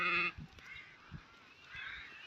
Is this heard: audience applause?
no